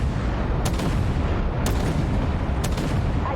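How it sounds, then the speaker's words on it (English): Autocannon firing high explosive rounds in Armored Warfare, three evenly spaced sharp shots about a second apart over a constant loud rumbling engine drone. "the autocannon's high explosive is pretty powerful"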